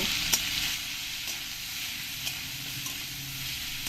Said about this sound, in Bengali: দিয়ে ভালো করে রসুনটাকে লাল লাল করে ভেজে নেব